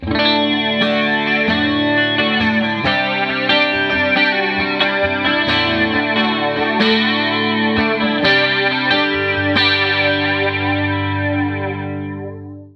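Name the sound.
strummed electric guitar through flanger pedal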